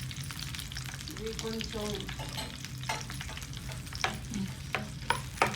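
Green chillies and ginger sizzle in a pan for chutney, a steady close frying crackle with stirring scrapes and small pops throughout, and a brief quiet voice speaking over it.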